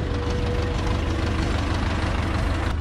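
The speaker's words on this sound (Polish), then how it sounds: "No ale traktor, ale dobry" Ursus C-360 tractor hauling a load of eternit sheets, its diesel engine running in a steady, loud, low knocking rumble close by, with no one talking.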